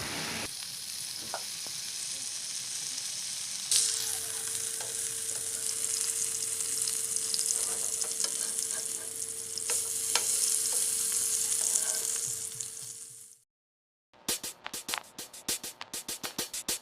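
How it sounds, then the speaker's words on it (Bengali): Prawns wrapped in pumpkin leaves fry in a frying pan with a sustained, close sizzle and crackle over a faint steady hum. It cuts out briefly, then returns as choppy bursts of spattering. "এবার ফ্রাইং প্যানে পাতাগুলিকে খুব ভালোভাবে ভেজে নিতে হবে।"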